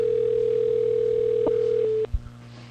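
A steady, loud telephone ringback tone heard while a number is being dialed, holding constant for about two seconds before cutting off into a brief click and silence, with no talking.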